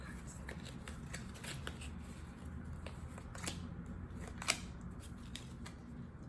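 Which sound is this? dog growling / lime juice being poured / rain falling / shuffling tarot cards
shuffling tarot cards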